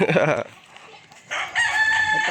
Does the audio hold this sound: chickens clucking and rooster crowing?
yes